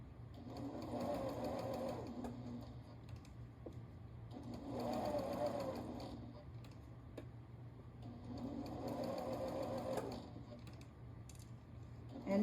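A sewing machine stitches a pillow in three rhythmic runs of about two seconds each, close and steady, with a faint background hum between bursts.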